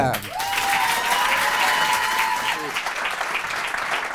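Audience applause and cheering greet a newcomer stand-up comedian on a French comedy show: a dense, loud wash of clapping with a brief sustained tone near the start, continuing steadily throughout.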